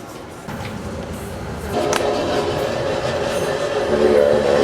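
A Romanian passenger train rumbles steadily along the tracks, its low roar growing louder with a sustained metallic whine, heard from inside a carriage.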